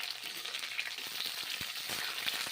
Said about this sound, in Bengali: সর্ষের তেল দিয়ে রান্না করছি ফুলকপিগুলো গরম তেলে ভেজে নিচ্ছি